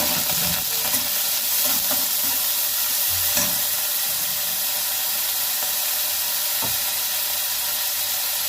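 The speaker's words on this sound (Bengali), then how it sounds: "কড়ার মধ্যে তেল দিয়ে দিয়েছি, সর্ষের তেল। আর এখানে এই যে কুচো চিংড়ি নিয়ে নিয়েছি," Small shrimp fry in hot mustard oil in a wok, giving a steady, loud, close sizzle and hiss throughout, broken by a few faint stirring knocks.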